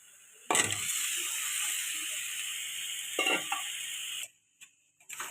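Fried potatoes tipped into spiced oil in an iron wok, a loud burst of sizzling that settles into a steady hiss, broken by a few clattering stirs before cutting off.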